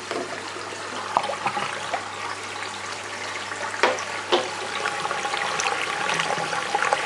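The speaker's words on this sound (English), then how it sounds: "So there's just a steady stream of water through that tube" Water runs in a steady, trickling stream through an aquarium anti-siphon tube on a 6-foot tank, with a faint constant hum beneath it and a few small splashes and knocks.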